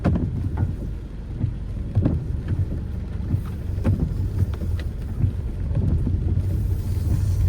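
Steady rain in Bodeli, Gujarat, patters on a surface in a dense, continuous hiss, with scattered louder drops and some low rumbling wind, and no voices.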